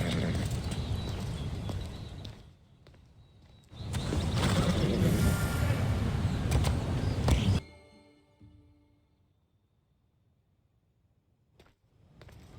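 Hooves clip-clop from a horse in Assassin's Creed Odyssey, a loud stretch of trotting that stops, resumes strongly, then cuts to near silence with only faint ticks.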